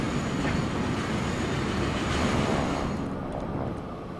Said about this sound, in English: Train coming in here.